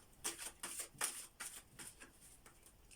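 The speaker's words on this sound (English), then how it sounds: "Take out the cards and start shuffling." Soft, quiet tarot card shuffling, a series of light papery flicks and slides in an uneven rhythm, close by with no talking.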